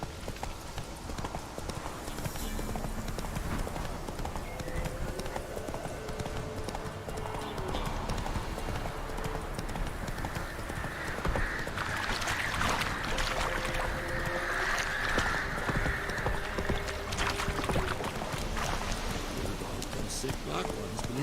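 Roach, Geralt's horse in The Witcher 3, hooves pounding in a steady clip-clop rhythm throughout, with a voice talking over the gallop and faint ambient game sound underneath.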